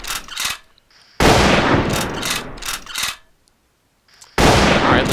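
Gunfire in the survival game Rust, loud close bursts of rapid automatic shots in three separate volleys with short silent gaps between them.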